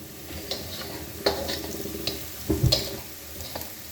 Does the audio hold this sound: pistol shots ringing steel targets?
no